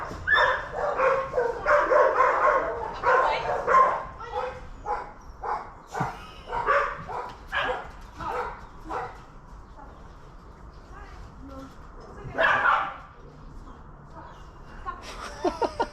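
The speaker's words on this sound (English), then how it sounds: "Let's wait for the barking to start." Dogs bark and yip in rapid bursts, loud at first, then scattered barks trail off with quieter gaps between.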